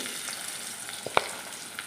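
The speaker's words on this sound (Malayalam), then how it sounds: "ഇനി നമ്മുടെ എണ്ണ നന്നായിട്ടൊന്ന് ചൂടാകുമ്പോഴത്തേക്ക് നമ്മുടെ ബി ഡി എഫ് അതിനകത്തോട്ട് ഇട്ട് കൊടുക്കാവേ" Beef pieces for a Kerala-style beef dry fry sizzling in a little hot oil, a steady crackling hiss with a couple of sharper pops near the middle; no speech.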